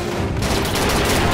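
Loud, continuous automatic gunfire in the Army Men video game, a dense rattling barrage with no break.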